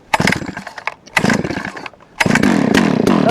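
A Wood-Mizer sawmill engine sputters and catches in bursts, then settles into a loud, steady running roar nearby once the choke is off.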